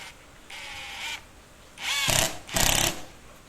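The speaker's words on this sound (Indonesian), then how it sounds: "di sini saya menggunakan speed 1, speed terendah, karena saya pakai skrup yang pendek" A Ronix impact driver at its lowest speed setting drives a short 4 cm screw, with a few close, loud bursts of whirring and hammering rattle separated by short pauses, no talk.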